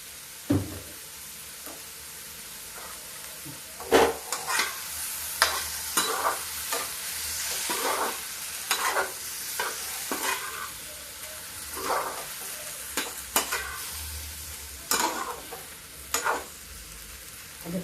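Tomato chutney with turmeric sizzles steadily in a pan while a spoon stirs and scrapes it, giving repeated knocks and scrapes at irregular intervals over the frying hiss.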